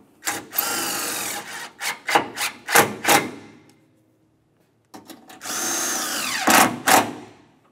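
A power tool drives the two top mounting bolts of an AC condenser on a 1994-2002 Dodge Ram 2500, loud whirring bursts in short pulses, a pause of silence, then a longer steady run near the mic.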